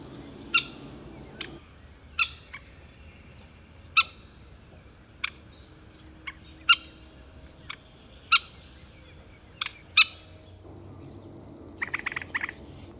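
A moorhen near a castle gives short sharp calls repeated every second or two, distinct and fairly close over a quiet outdoor background, ending with a quicker cluster of chirps.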